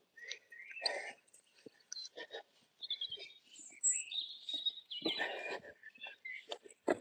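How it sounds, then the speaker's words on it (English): Birds sing outdoors on a morning dog walk, with scattered bright chirps and whistled phrases coming and going throughout at moderate distance, mixed with faint rustling and soft breathy sounds from someone nearby. "Listen to this bird song"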